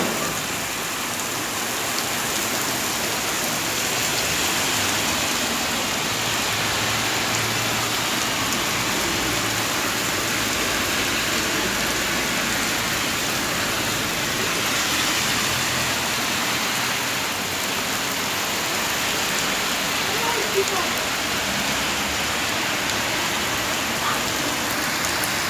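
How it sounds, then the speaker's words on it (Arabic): Heavy rain falls over the city of Kenitra, a dense, steady roar of water that holds at the same even loudness throughout, with no voices. "امطار قويه"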